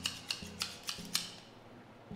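Scissors handled up close with a quick series of five or six light metallic snips and clicks, quiet and alone with no talk.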